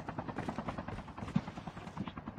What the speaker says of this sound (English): Ay, may chopper, ha?